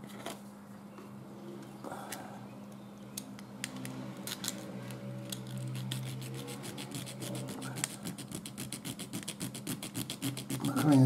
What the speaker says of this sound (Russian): будем пилить при желании. Пилить надо аккуратненько